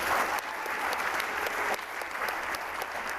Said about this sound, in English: So round of applause for Graydon.